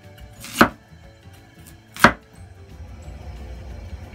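Two sharp knife chops cut through potatoes on a cutting board, evenly spaced about a second and a half apart, close and crisp against a quiet kitchen background.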